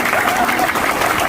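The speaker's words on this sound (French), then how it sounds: "Applaudissez-vous s'il vous plaît." A crowd at a Haitian pan-African gathering applauds in a dense, steady wash of clapping, loud and continuous through the short clip with no pauses.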